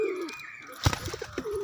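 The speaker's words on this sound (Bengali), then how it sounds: "দেখো এই পায়রাটা হাতে চলে এসেছে" A single short pigeon coo from a pet pigeon being hand-fed at home, close and soft, standing out briefly from a quiet background with a few faint light sounds around it.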